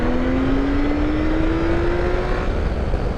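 A 1982 Honda CBX six-cylinder motorcycle engine revs hard, its loud, smooth note climbing steadily in pitch before easing off near the end.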